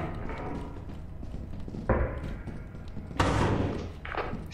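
A door in a horror co-op video game opens with heavy mechanical thuds and clanks, two loud impacts standing out over a rumbling background.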